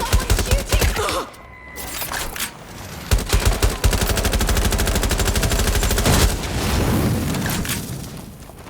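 Gunfire in the video game Watch Dogs Legion: loud bursts of rapid automatic fire and sharp single shots, with a brief lull, then sustained rattling volleys continuing to the end.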